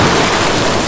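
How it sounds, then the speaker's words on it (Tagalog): Rough sea churned up by a passing typhoon: a loud, steady wash of surf and breaking waves fills the whole moment, close and continuous with no voices. "So maalon po talaga ng bagyong dumaan."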